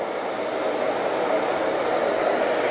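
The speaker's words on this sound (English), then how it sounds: "It's a beautiful, very powerful vacuum" A Miele Complete C3 Carpet & Pet vacuum cleaner picks up sand from carpet with a steady, loud motor roar that holds even and unbroken from start to finish, with no talking.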